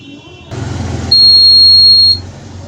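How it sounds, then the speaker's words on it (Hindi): A fingerprint door lock gives a steady, loud electronic buzz for about a second when an invalid fingerprint is touched to the sensor, standing out above a low background hum. "आपको बजर की आवाज़ आ रही होगी, यानी कि इनवैलिड फिंगरप्रिंट।"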